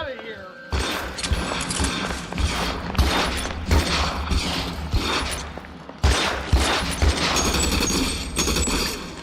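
Gunshots from a firearm in the video game L.A. Noire, set in 1947 Los Angeles, cracking in close repeated bursts with mechanical clatter between them, loud over a steady background while a voice talks.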